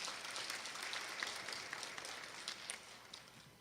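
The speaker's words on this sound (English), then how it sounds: "Give her another round of applause." An audience at an annual pageant gives a pageant contestant a round of applause, faint and somewhat distant, a continuous patter of many hands with no speech.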